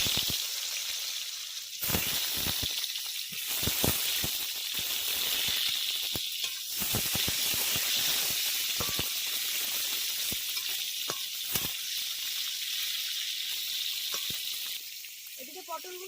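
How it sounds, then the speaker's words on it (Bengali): Pieces of pointed gourd (potol) sizzle in hot white oil in a kadai, a loud continuous crackle and hiss with sharp pops and occasional stirring clatters. "এবার তেলের মধ্যে পটলগুলো দিয়ে ভেজে নেব।"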